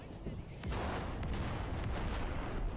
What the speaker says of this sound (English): That's kind of scary artillery.